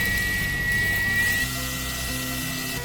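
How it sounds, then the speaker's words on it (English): Electric drill fitted with a 3/16 masonry bit boring into grout for an outdoor utility sink, a steady loud motor whine close by that drops in pitch midway as the bit bites. "So I'm gonna go ahead and just use my electric drill."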